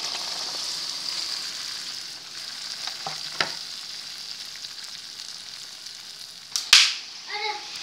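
Long beans stir-fried in a pan with aromatic sautéed seasonings, a continuous soft sizzle with occasional utensil scrapes and a sharp clatter near the end.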